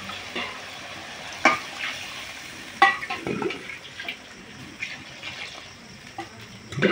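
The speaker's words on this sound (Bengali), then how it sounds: "এই দেখো মশলা হয়ে গেছে, প্রায় ভাজা হয়ে গেছে পনিরটা।" Paneer cubes frying with spices in a pan for a vegetarian curry, a soft sizzle under irregular stirring clatters and a few louder scrapes, fairly close and with no talk.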